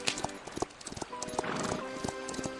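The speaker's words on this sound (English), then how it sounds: "The white horse races toward the line where the steppe meets the night sky" A white horse gallops across open steppe at night, its hooves beating a quick, close clip-clop rhythm with a brief whinny-like call among the strikes.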